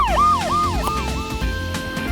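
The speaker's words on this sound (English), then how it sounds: "An ambulance." A loud ambulance siren wails in rising and falling sweeps, close by, over a low vehicle rumble.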